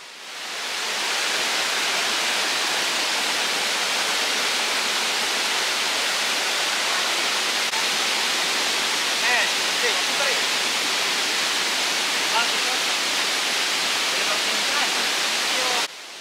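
A swollen river waterfall after heavy rain at Limoli on Seram Island roars as a dense, constant rush of white-noise water, loud and unbroken throughout.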